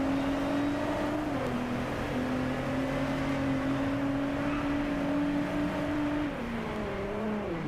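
Nissan race car engine in the racing game Driveclub holding a steady high drone while racing, with pitch dips at a couple of gear shifts and other cars faintly around, no talk.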